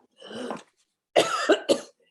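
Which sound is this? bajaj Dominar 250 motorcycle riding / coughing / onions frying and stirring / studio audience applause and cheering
coughing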